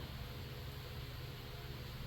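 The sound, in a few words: electric fan running in background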